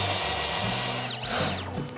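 A power drill unscrewing a stripped screw runs at a steady high whine, then briefly slows and speeds up again as the screw comes loose, close and alone.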